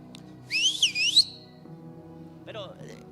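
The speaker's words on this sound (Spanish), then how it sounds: "Yo le enseñé a chiflar así a mi hijo" A person whistles a quick warbling, up-and-down tune for under a second over a low hum of background music.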